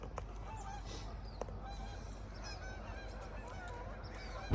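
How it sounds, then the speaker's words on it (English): Migrating geese honk in a distant flock, calls scattered over a steady low background rumble, faint and continuous throughout. "Geese are migrating and the whole 9 yards."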